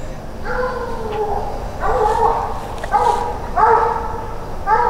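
A coonhound bays at a treed raccoon in repeated drawn-out bawls, one roughly every second, fairly close, with a faint voice in the background.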